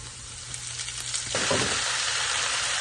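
Water spinach dropped into hot oil in a pan with onion and spices, a quiet simmer that bursts into a loud, steady sizzle partway through and keeps crackling close by, with no talking.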